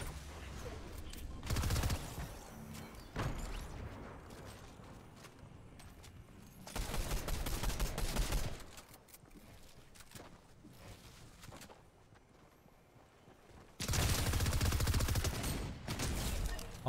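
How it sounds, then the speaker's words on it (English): Rapid bursts of video game gunfire crackle in three loud volleys, each lasting one to two seconds and separated by quieter stretches of background game noise, with no talking over them. "You can't be missing that many shots."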